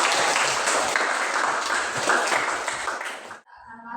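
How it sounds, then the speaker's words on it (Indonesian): Students in a classroom break into brisk group applause, a dense, loud wash of clapping that holds for about three seconds, then stops abruptly and a voice follows. "Beri tepuk tangan untuk kita semua."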